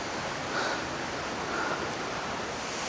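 A waterfall on a hiking trail near Sundarijal outside Kathmandu gives off a steady, even rush of falling water, broadband and continuous at moderate distance, with no voices over it.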